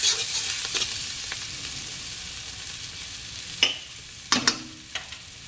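Large slices of onion frying in a pan for an onion chorchori with small fish: a steady, close sizzle throughout, with a few sharp clinks and scrapes of stirring near the end.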